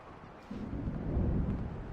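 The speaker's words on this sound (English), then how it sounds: "The storm is almost here." Thunderstorm in the video game Alan Wake: a low rumble of thunder swells about halfway through and holds steady over a rain-like wash, with no talking.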